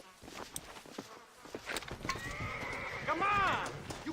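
A horse in the video game Red Dead Redemption gives a loud, close whinny with a falling, wavering pitch, preceded by clip-clop hoofbeats and game sounds.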